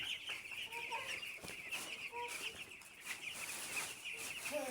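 Chickens on a poultry farm raised without antibiotics cluck softly amid a steady high-pitched background chorus of birds, fairly quiet and continuous.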